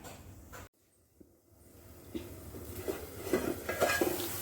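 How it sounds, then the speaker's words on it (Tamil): A metal plate set down as a lid over a pan of tomatoes on a low flame: a brief clatter of dishware, then a low background hiss with several light clinks and taps near the end. "அடுப்பை சிம்மில் வச்சுட்டு தட்டை வச்சு க்ளோஸ் பண்ணி வச்சிடலாம்"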